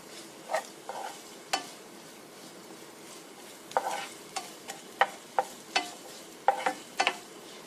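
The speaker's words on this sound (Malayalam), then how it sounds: "കറിവേപ്പിലയും കൂടി ചേർത്ത ശേഷം നമ്മൾ ചുവന്നുള്ളി നന്നായിട്ടൊന്ന് ബ്രൗൺ പരുവത്തിലാവുന്ന വരെ ഒന്ന് ഇളക്കി കൊടുക്കുക" Shallots and curry leaves fry in a pan while a spoon stirs them, a soft background sizzle broken by scattered sharp scraping clacks, sparse at first and then quicker and more frequent toward the end.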